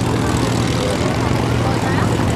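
A propeller-driven warplane with D-Day invasion stripes drones loudly overhead at a naval air station airshow, a continuous heavy engine roar filling the scene without break.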